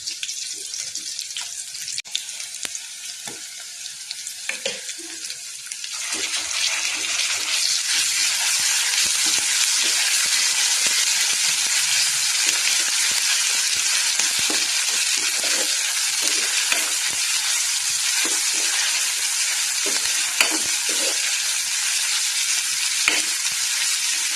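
Ginger garlic paste sizzles and fries in a curry pan, the hiss swelling loud and steady after a quieter opening, with intermittent scraping of a stirring spoon.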